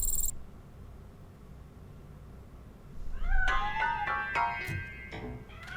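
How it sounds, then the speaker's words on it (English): A cat meows repeatedly from inside a piano in the video game RoboCop: Rogue City, several clear, close mews in the second half after a brief high chime and quiet room tone. "That cat must be hiding inside."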